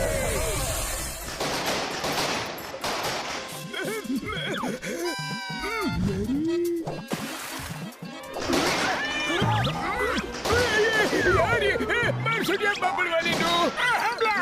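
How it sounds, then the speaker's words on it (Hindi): Rapid bursts of fireworks crack and pop in uneven volleys, mixed with music and excited voices throughout, growing louder toward the end. "यहाँ सामने आतिशबाजी हो रही है।"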